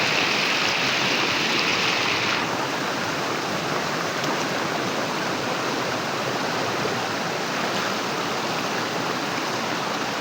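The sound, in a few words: river flowing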